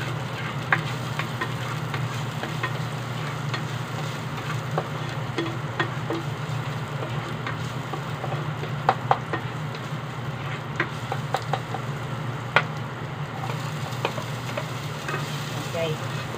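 Food frying in a pan with only a little oil, a steady close sizzle with occasional stirring clicks and scrapes and a low hum beneath, running continuously.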